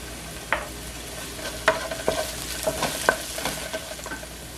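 Tomato and smoked herring sautéing in a pan, with a steady close sizzle broken by a handful of sharp clacks and scrapes from stirring, and no talking.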